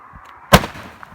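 A single sharp, loud New Year's firework bang bursts out mid-clip against near quiet, followed by a brief fading rumble.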